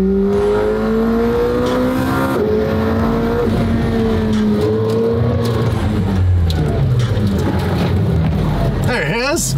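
A McLaren Senna with a carbon body revs loudly and steadily, its exhaust note rising and falling through several throttle blips, close by and continuous, with a person talking over it.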